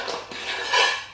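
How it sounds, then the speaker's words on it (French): Iron lids of Bath and Body Works scented candles clink and scrape against each other, a close, bright metallic rattle lasting about a second with no voices. "Désolée pour le bruit, c'est des couvercles en fer"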